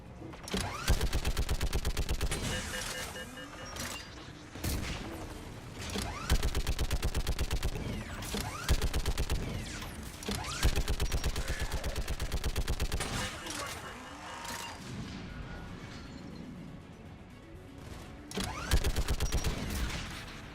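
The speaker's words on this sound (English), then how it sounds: "Shepard, you should be able to use the Geth turret." Geth turret gunfire in the video game Mass Effect 3 comes as long, rapid automatic bursts separated by short pauses, loud and close, with game dialogue faintly underneath.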